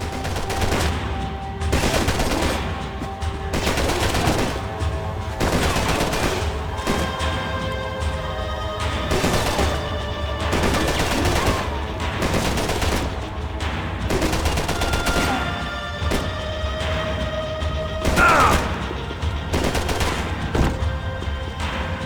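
Sustained gunfire in the Max Payne 3 video game, dense rapid bursts of shots and impacts over a low rumbling bed, loud and continuous with hardly a pause.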